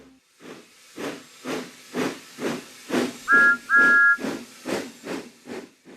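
A cartoon steam engine puffs slowly in evenly spaced hissing chuffs, about a dozen in a row, with a brief two-note whistle sounding midway; near and clear, no voices.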